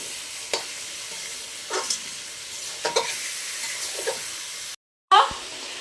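Meat sautés in plenty of oil in a pan, giving a continuous close sizzle broken by several spatula scrapes and stirs. It cuts briefly to silence near the end, then returns with a sharp clatter.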